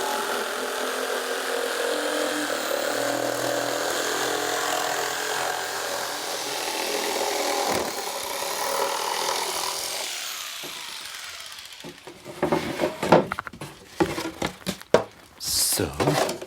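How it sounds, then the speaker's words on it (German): A jigsaw cuts a plywood board for a nativity crib, a steady loud buzzing rasp for about twelve seconds before it stops and gives way to clattering workshop handling noises, with a voice speaking over it. "Mit der Stichsäge schneidet er dann die Sperrholzplatte zu."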